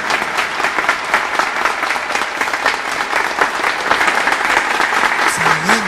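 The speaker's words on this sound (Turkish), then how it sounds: "Alkışlar mıyız efendim?" Loud, steady audience applause fills the whole stretch, dense overlapping clapping with crowd noise and no pauses.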